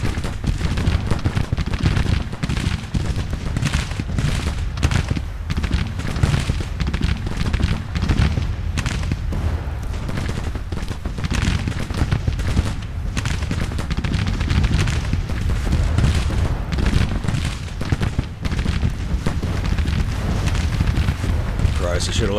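Musket volleys and artillery fire in the Civil War strategy game Grand Tactician: The Civil War form a continuous crackling, rumbling barrage of shots and booms, with voices heard now and then.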